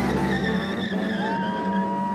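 Car tires burning rubber in a loud, sustained skid, a steady roar of squealing rubber and engine noise with a rising tire whine near the end, at a Friday-night burnout gathering.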